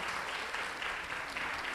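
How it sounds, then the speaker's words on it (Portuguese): Steady applause from a crowd at a formal ceremonial session, dense clapping that holds at an even level throughout with no voices standing out. "Uma salva de palmas, palma de palmas gente."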